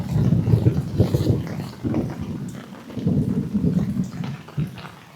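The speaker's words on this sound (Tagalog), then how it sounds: "Grabe, ang lakas ng ulan." Heavy rain and thunder batter a campsite in Norzagaray, Bulacan, where the ground has turned to mud and begun to flood; a loud, steady low rumble with a dense rain wash swells and eases, with no voices.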